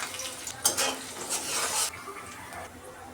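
Hot oil sizzles and hisses in bursts as onion, garlic and leafy greens are stirred in a wok, with a brief louder crackle near the start.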